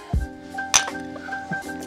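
Drinking glasses clink together in a toast, one sharp bright strike near the start followed by a faint ringing tail and a couple of softer taps, close by in a quiet room.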